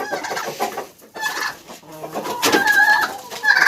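A rooster gives a run of close, choppy clucks with a few louder squawking calls near the end, squaring off with a turkey hen in a village yard.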